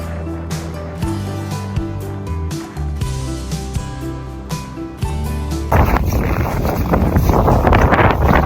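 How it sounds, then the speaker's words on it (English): Cold wind blowing on a mountaintop, buffeting the microphone as a loud, rough, continuous roar that swells sharply in the second half. "The wind on the mountaintop was very cold"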